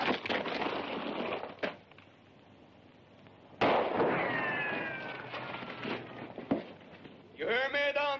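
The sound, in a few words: gunshot in a classic western movie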